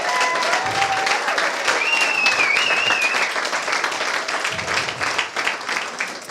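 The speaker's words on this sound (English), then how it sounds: "let's round of applause" Applause from a dinner audience fills the room steadily and loudly, a dense wash of clapping with a whistle or two rising briefly through it before the clapping thins toward the end.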